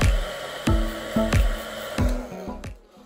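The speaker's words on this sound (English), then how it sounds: "I'm just gonna grab the hairdryer and blow dry it really quick" A hair dryer blows on a lace front hair topper in short bursts, its whooshing airflow pulsing about five times with whiny motor tones before cutting off.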